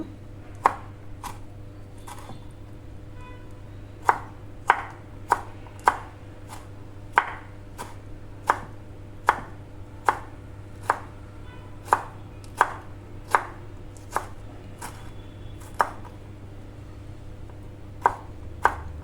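A knife chops two green chillies on a board for a Kolkata-style peyaji, giving about twenty crisp, evenly spaced taps close up over a quiet room hum.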